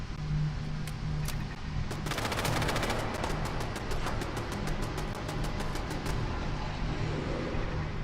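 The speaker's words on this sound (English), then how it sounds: "The gunfire in the distance was not for me, but the turret was disposing of some zombies." Automated turret in the Fallout 4 video game firing in the distance: rapid bursts of gunshots in quick rhythmic strings against a steady low rumble, moderately loud.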